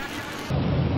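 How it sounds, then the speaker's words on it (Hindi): Heavy torrential rain pours down during a storm in Islamabad, a dense steady roar that swells louder about halfway through, with deep low rumbling of thunder beneath it and no voices. "विफाकी दारुल हुकूमत इस्लामाबाद में आज भी मूसलाधार बारिश हुई।"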